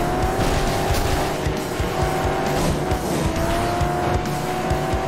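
Racing car engine in the video game FlatOut 2, a steady loud drone with shifting pitch and repeated tire squeals and skids throughout, no talking.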